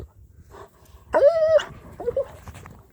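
A dog whimpers after playing in deep snow, a soft whine followed by a long high nasal whimper and a shorter second one, close and alone in a quiet setting.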